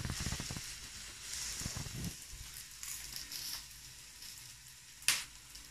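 Pizza napoletana base sizzling in oil in a pan, a soft crackling fry that comes and goes, with a sharp clatter near the end.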